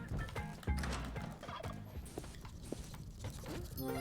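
Turkeys gobble in a video game, a busy run of warbling calls in the foreground alongside clattering game sounds and some talk.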